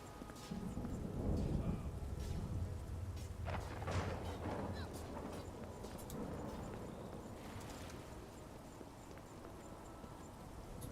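Rain hisses and thunder rumbles inside a room in The Elder Scrolls IV: Oblivion, a soft, steady wash of rain with a low rolling rumble and scattered faint knocks and clatters, all fairly quiet and distant.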